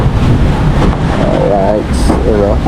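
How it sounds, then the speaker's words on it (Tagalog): Steady, heavy wind rumble buffets the microphone throughout while a person talks over it. "Masyadong mahangin."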